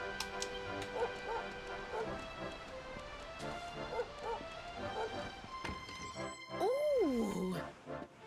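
A dog barks in the video game Dragon Quest 11, a few short yips and woofs spaced out over game music and effects, ending in a longer whimpering whine.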